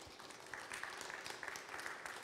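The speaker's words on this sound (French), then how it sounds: "On peut les applaudir" Faint, distant applause from an audience at a start-up pitch event, a soft continuous patter of clapping with a few sharper claps.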